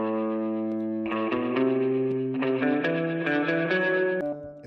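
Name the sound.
guitar with spring reverb effect in a mix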